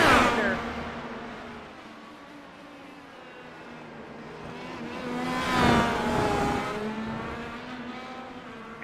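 Engine drone of IndyCar race cars in a racing video game, a steady high-pitched whine that swells into a louder pass around the middle before settling, with a commentator talking over it.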